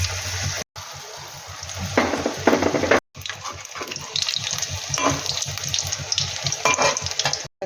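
Shiuli leaf fritters fry in a pan with bubbling, crackling sizzle and some watery splashing, broken by two short silent cuts; the frying sounds close and fairly loud, with no one speaking.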